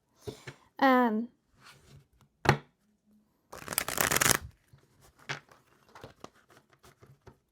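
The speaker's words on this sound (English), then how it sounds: "This deck does not want to shuffle for me." Tarot cards being shuffled in short riffling bursts, with brief tapping and quiet rustles between them, plus a short vocal sound near the start.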